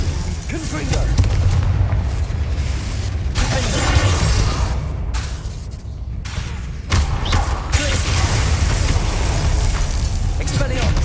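Fiery Confringo spell blasts in Hogwarts Legacy rumble as loud, continuous booms and crackling impacts over combat noise, with a voice talking over parts of it.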